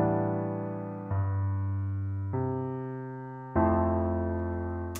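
Sustained keyboard chords in an FL Studio 2-5-1 progression for an R&B trap beat, four held chords changing at steady intervals, each struck then slowly decaying, with no voices.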